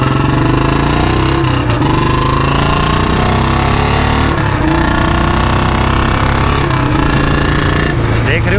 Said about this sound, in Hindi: देख रहे हो ना क्या चीख रही है बाइक, क्या ही खतरनाक वाली खींचती है भाई और खतरनाक वाली चीख मारती है।